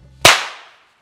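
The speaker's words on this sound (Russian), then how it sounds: "Тестовый выстрел произведем по дереву" A single test shot from a fist pistol fired into wood, one sharp, loud crack with a quick decaying tail, alone after a brief low hum.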